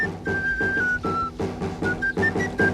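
Xipla, a traditional Asturian whistle flute, plays short bright sustained notes in a phrased melody over a busier instrumental accompaniment with a steady beat.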